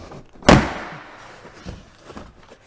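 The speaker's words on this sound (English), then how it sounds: "give it a good firm pull to get those clips popped loose" A door panel on a Ram TRX pickup is pulled and a clip pops loose with one sharp, loud snap, followed by softer thuds and small plastic clicks.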